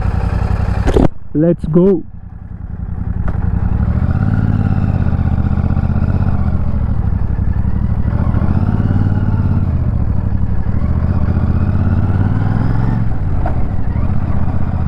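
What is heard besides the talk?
650cc motorcycle engine with 270-degree crankshaft, engine and exhaust sound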